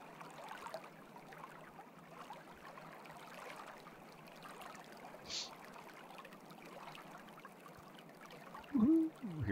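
Simulated flowing water in a real-time Unreal Engine 5 Fluid Flux breaking-waves demo makes a steady, faint rushing wash throughout, with a brief louder splash near the end.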